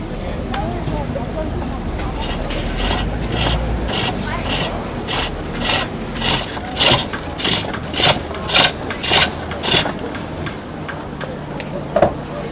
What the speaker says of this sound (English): I'm working the core down to a point where it's so thin I can snap the bowl off the lathe.